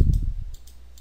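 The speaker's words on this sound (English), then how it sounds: "So all we need to do is go over here to the very right of the screen and right click." A single sharp computer mouse click near the start, followed by two fainter clicks, heard up close over a low rumble with no talking.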